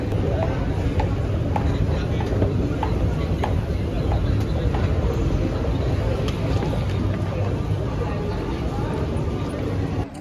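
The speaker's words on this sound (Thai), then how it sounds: "ตอนนี้กำลังขึ้นรถไฟฟ้าค่ะทุกคน" Train interior on an electric rail ride in Singapore, a steady low rumble and rolling noise running continuously throughout, fairly loud with faint clicks and wheel noise mixed in.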